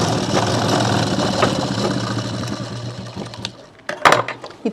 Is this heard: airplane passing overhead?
no